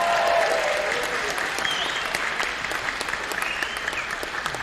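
Steady crowd applause fills a stand-up comedy tournament room between rounds, with individual claps audible in the wash and faint voices mixed in, fading slightly toward the end.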